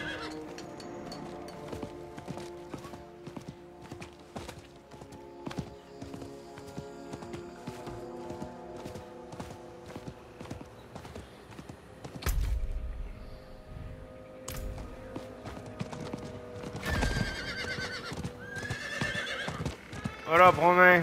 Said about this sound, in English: I'm not going to ride my horse like that, man.